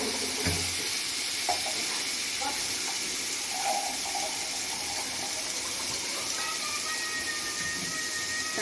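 Water poured into a spiced masala mixture sizzling in a pan for a potato and peanut dish, a steady hissing wash with frying crackle and a faint stirring clatter, close and continuous.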